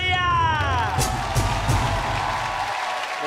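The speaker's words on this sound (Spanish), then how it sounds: "Recibamos con un fuerte aplauso al señor Lucho Díaz" A studio audience at a Colombian TV talk show claps and cheers loudly, with whoops rising over steady applause and some voices mixed in, all fairly close.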